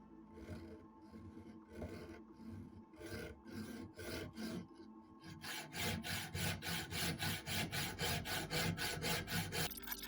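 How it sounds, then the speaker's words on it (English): A flat file rasps rhythmically against a handmade wooden whistle, removing material from its thick wall; the strokes are close and steady, becoming faster and more even in the second half, with no talking. "Since the wall is so thick, I would use flat file, take this material out"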